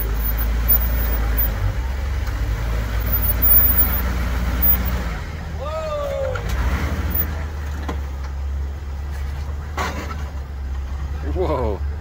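A Jeep Rubicon engine drones low and steady as it climbs a steep sand hill at Sand Hollow, Utah, with excited voices calling out over the rumble.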